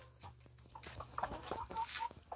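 Backyard chickens, including a young hen, cluck and chatter in short bursts with a few higher squawks, fairly close, over faint outdoor background noise.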